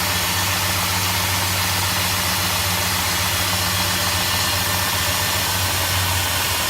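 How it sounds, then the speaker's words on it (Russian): Cold Dodge Durango 4.7 engine with a knock from the central cylinders runs steadily at idle, a close, constant mechanical drone with no talk. "звук с центральных цилиндров идет."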